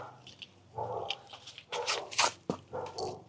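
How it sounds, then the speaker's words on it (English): Several dogs bark and yip in bursts, fairly close, with some whimpering between the barks and a low steady hum underneath. "it made some dogs bark"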